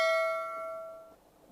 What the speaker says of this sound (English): let's check if the chime is working or not.